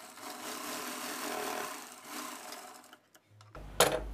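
A sewing machine stitches a maggam work blouse, a close, steady run of whirring for about three seconds, then stopping, followed by a brief knock and handling noise.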